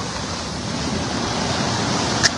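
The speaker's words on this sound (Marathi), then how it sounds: "बापरे कसलं पाणी इकडे बघा" Floodwater rushing across farm fields near Karajkheda village in Dharashiv district, a steady, loud broadband roar of churning water with wind, continuous throughout with no voices.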